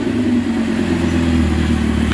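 An Audi R8 V10 fitted with an Armytrix titanium exhaust idles steadily and loudly up close, a continuous low engine drone with no revving.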